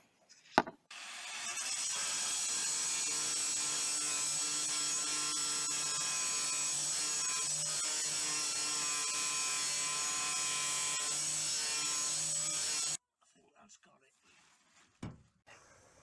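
An angle grinder cuts out the metal bulkhead in the back of a van: a loud, unbroken high-pitched grinding whine holds for about twelve seconds, then cuts off sharply, leaving quiet shuffling.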